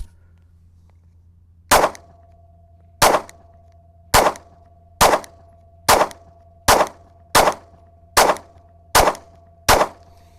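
Ten single 9mm shots from a PSA Micro Dagger pistol crack sharply and loudly at slightly quickening intervals, each followed by a brief ringing tail, with a faint steady hum between shots.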